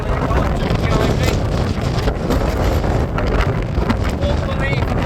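Strong wind buffets the microphone on Starling Dodd, a Lake District fell, a loud, continuous roaring rumble with gusting surges throughout and no let-up.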